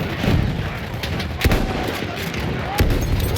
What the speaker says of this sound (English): We got some nice shots here.